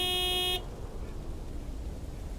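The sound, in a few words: truck horn honking, from video game Lake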